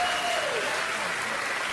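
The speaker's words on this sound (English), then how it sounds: "I'm not saying this just to get cheap applause, although I have achieved that goal" Studio audience applauding during a late-night political comedy show, a dense steady wash of clapping at even loudness with a faint tone fading early on.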